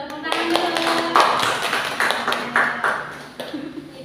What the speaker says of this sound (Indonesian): Ya betul, tepuk tangan dulu.